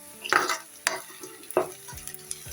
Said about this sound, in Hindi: लहसुन और प्याज का छोंक है ये